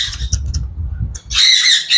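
Hungry hand-fed baby birds, about 30 to 40 days old, squawk in loud, harsh, overlapping bursts near the microphone, building into a sustained chorus after a brief low rumble.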